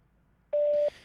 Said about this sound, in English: Matt, there's literally no reason for you to not pick up the phone